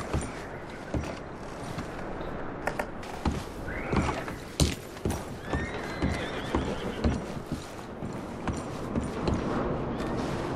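Horses whinny and snort amid clopping hooves and creaking movement in Red Dead Redemption 2, several sharp neighs standing out over a steady busy background.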